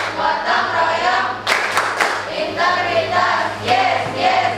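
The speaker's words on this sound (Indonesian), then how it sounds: "Yuk, tepuk PPK." Voices chant the tepuk PPK clap chant together, punctuated by a couple of short, crisp bursts of group hand clapping that stand out from the steady chanting.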